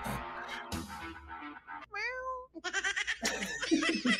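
During an Omegle video chat, a person imitates a cat with a drawn-out meow, mixed in with other voices and laughter.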